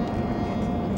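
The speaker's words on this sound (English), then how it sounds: "You have planes coming over" Airplanes pass overhead near Logan Airport, seen from Castle Island in South Boston, as a loud, continuous broadband jet roar with a strong low rumble.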